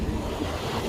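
Wind blows steadily outdoors by a road, a broad rushing noise buffeting the microphone throughout with no talk.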